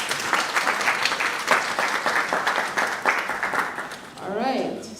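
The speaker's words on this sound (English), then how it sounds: "Give her a clap." Audience applause fills a welcome ceremony and orientation for new undergraduate students, with steady clapping from a sizeable crowd for about four seconds before it fades and a voice begins speaking.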